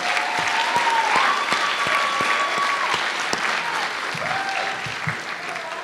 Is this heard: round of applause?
yes